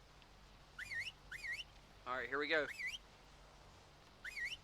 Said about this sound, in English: my controller's making a whistle